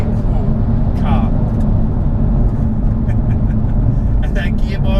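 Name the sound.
Jaguar F-Type R V8 engine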